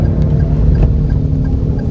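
A Daihatsu Rocky with a 1000 cc three-cylinder turbo engine drones loudly from inside the cabin as it accelerates, a steady, dense hum with no talking.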